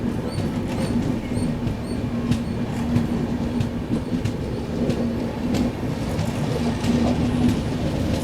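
Tirupati–Hazrat Nizamuddin Sampark Kranti Express running on the rails, a loud continuous rumble with rhythmic clickety-clack from the wheels and faint squeals, heard from inside the moving train.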